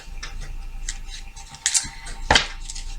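A deck of tarot cards is cut by hand, producing a few light, close clicks and taps followed by two brief, sharper riffling snaps of the cards, all fairly quiet and without speech.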